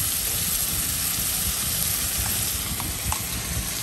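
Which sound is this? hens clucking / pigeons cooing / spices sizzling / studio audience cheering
spices sizzling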